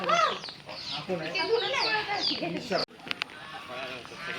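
Chickens, some with green feathers, cluck and squawk up close in a busy, overlapping chorus at an agro-tourism farm near Mumbai, with a person talking among them.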